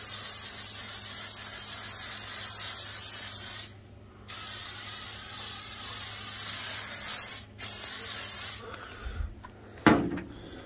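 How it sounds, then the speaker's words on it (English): A cleaning liquid is sprayed onto a grill while it is being prepared for a Thanksgiving pork butt cook. Three long, close hissing spray bursts are separated by short pauses and followed by a few light clanks. No one speaks. "So now when I spray, I don't have to worry about wiping it off."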